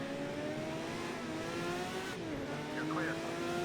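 Race car engine in the Project Cars video game, a steady high-pitched whine holding at top speed with a brief downshift and tire squeal near the end, loud and continuous.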